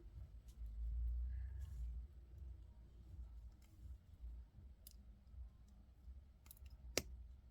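A single sharp snip of cutters through beading wire while a necklace is being made, one crisp click near the end above a low, quiet room rumble.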